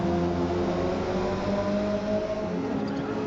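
Racing car engines in Forza Motorsport drone steadily and loudly with sustained harmonic whine, several cars contesting position on track, no voices.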